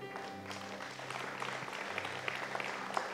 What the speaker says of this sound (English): I appreciate the claps